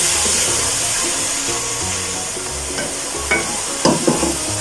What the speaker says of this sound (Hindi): हम इसको तब तक फ्राई करेंगे जब तक अदरक लहसुन की एक रॉ सी कच्ची सी एक स्मेल होती है